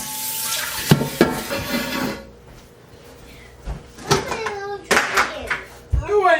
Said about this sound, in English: Always wash your pot again.